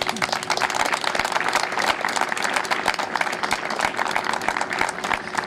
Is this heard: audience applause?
yes